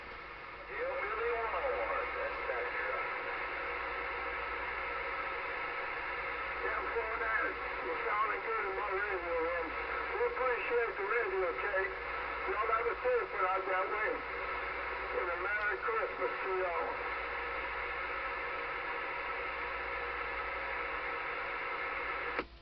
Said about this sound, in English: Trying out a radio. Anyone around? There's some people talking